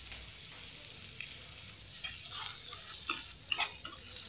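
Curry leaves and mint leaves are sautéed in a pan, a faint steady sizzle with soft crackles and small ticks of stirring, close by and without talk.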